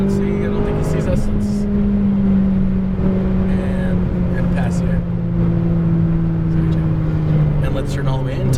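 A 2017 McLaren 570S on the Las Vegas Speedway track gives a loud, close engine drone whose pitch eases downward as it shifts up a gear, with voices talking over it.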